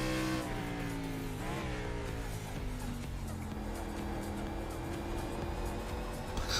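Race car engine heard from the cockpit, a steady, muffled drone with harmonic whine that dips and recovers as the driver eases gently on the throttle into a corner, continuous and close throughout.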